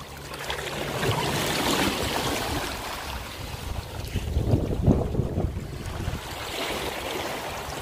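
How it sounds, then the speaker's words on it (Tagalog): Strong sea waves slap and surge around a small boat, a steady rushing wash with heavier swells building midway, buffeted by wind noise, with no voices. "Lakas ng alon."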